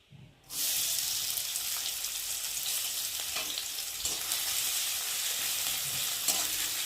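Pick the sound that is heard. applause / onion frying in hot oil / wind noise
onion frying in hot oil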